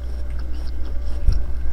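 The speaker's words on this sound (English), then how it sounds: "What the freak is that noise? It's kind of like an apple crunch." A single crunchy bite, like teeth sinking into an apple, lands sharply near the end over a steady low background hum, with a brief crisp crackle just after.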